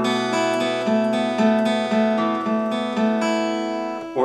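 Acoustic guitar picked in a steady, even stream of eighth notes through a song's picking pattern, every stroke of a constant down-up motion sounding, close and clear with no voice.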